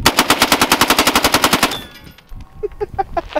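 An MP7 submachine gun fires a long, fast automatic burst into ballistic gel: about twenty evenly spaced loud cracks in under two seconds, then ringing and scattered clatter as debris settles.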